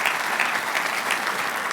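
An audience at a roast of former Seahawks quarterback Dave Krieg breaks into dense, sustained applause, a steady wash of many hands clapping at once.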